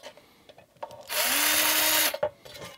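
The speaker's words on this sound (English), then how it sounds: "Just using a larger drill to deburr them," A power drill with a larger bit deburrs drilled holes while a power supply is built, giving one close, loud whirring burst of about a second between quiet handling clicks.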